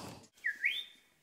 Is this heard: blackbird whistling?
yes